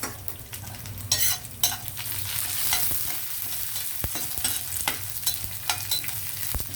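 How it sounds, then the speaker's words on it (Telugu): Garlic, cumin, mustard seeds and dried red chillies fry in hot oil in a pan for a tempering, a steady close sizzle with repeated scraping of a spoon stirring against the metal. "పోపులు చక్కగా వేగిపోయాయి"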